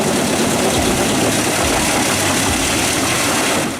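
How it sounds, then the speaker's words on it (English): Petzolato PTH1200 high-capacity wood crusher driven by a 500 HP engine, running with a steady, loud, dense engine roar and heavy low rumble that holds constant for the whole stretch, with no voices. "Petzolato PTH1200 is a high-capacity wood crusher, featuring a powerful 500 HP engine, durable rotor, and sharp cutting blades."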